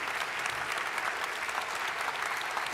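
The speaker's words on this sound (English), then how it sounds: "A big round of applause for Satoshi Nakamoto." Steady audience applause at a Bitcoin conference in London, a continuous wash of many hands clapping at moderate level without pause, no voices standing out.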